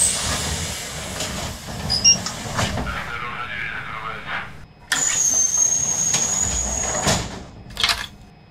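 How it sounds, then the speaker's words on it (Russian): Pneumatic sliding doors on an ER2 electric train in the Trainz simulator close with a sudden thump and a long hiss, followed by a steady electrical whine and a brief rattle, with an announcement voice over the cab noise. "Осторожно, двери закрываются."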